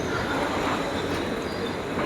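The Panchaganga Express stands at the first platform of small Sakleshpur hill station, giving off a steady, dense rumble and hiss with a faint metallic edge and no clear wheel rhythm.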